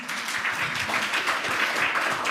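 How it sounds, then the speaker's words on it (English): Audience applause at a bladder cancer awareness event, a dense steady patter of many hands clapping together for a couple of seconds, fairly close and loud with no voices over it. "A big clap, please,"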